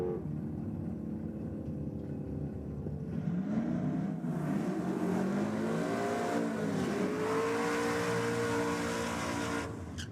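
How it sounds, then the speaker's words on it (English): A Holden drag car at Sydney Dragway roars steadily under hard acceleration, its engine pitch rising and wavering as the tyres spin, loud and sustained for several seconds before cutting off. "The Holden just turned tyres."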